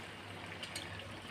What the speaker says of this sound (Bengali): আমি এখন জল দিয়ে দিচ্ছি